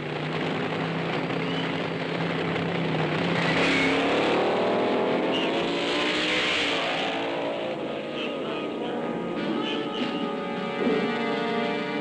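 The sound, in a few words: fuel dragster racing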